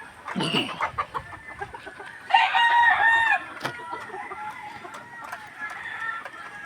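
Fighting cocks on a Filipino gamefowl farm crow and cluck nearby, with one loud drawn-out crow in the middle standing out over scattered clucks and other birds calling in the background.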